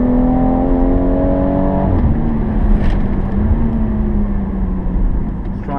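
A 2017 BMW M240i on a slippery track at Killarney International Raceway holds a loud, continuous engine drone with a pitch drop as it slides sideways, accompanied by tire and wind noise, heard from inside the car.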